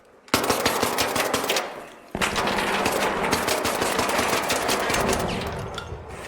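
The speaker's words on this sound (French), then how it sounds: "Vous avez entendu ces tirs?" Rapid automatic gunfire in the video game ARC Raiders, two sustained loud bursts of close, rattling shots separated by a short pause, with no talking over them.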